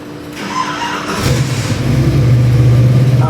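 A freshly built Chevy 383 small-block crate engine for a 1968 Camaro cranks, catches and fires up, then settles into a loud, rough, lumpy idle with rising revs, close up and with no talking.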